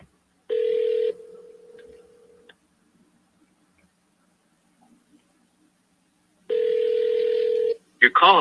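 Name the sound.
telephone ringing on an outgoing call before voicemail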